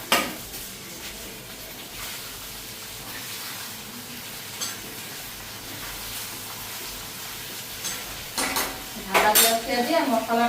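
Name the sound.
okra and eggplant frying and stirred in a pan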